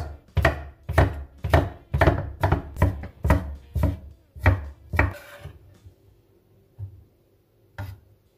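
A knife cuts bell peppers on a board in about ten sharp, evenly spaced chops, loud and close, then a few isolated taps after a pause.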